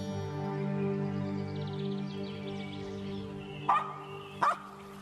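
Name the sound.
dog barking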